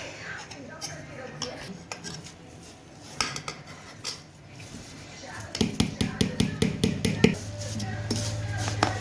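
A spoon scrapes and clinks against a bowl while pickle ingredients are mixed, scattered taps early then a quick run of rhythmic metallic clatters, with someone speaking quietly between strokes.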